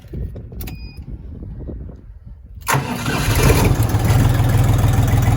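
A Lovol FT 244 HXN tractor engine cranks and catches at close range after a few quiet seconds of handling noise, then settles into a loud, steady rumbling idle.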